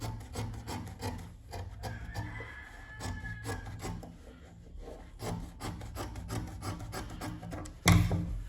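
Scissors cutting dress fabric along a marked line, a close sequence of soft snipping and rubbing scrapes with a sharper, louder handling noise near the end.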